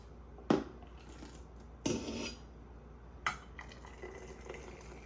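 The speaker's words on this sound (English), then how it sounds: "So I'm just gonna fill up all of my jars." Homemade peach juice poured into jars, three sharp glass clinks spaced a second or so apart, each followed by a faint trickling and sloshing of liquid, and no talking.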